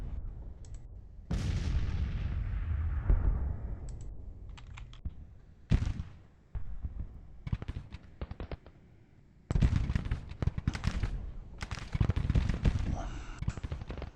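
Cannon and musket fire in the Civil War strategy game Grand Tactician at First Bull Run, sharp bursts and rolling volleys that rise and fall, with quieter gaps between.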